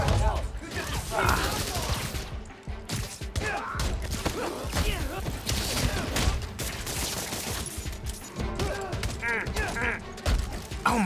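Enemy gunfire in the Spider-Man Miles Morales video game comes as bursts of rapid shots and thuds amid busy combat noise, with voices talking over it.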